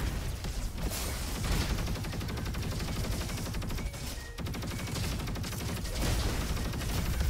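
Loud, dense bursts of Quasar SMG fire in the video game Roboquest, a continuous rattle broken by a few short pauses and set against heavy combat noise.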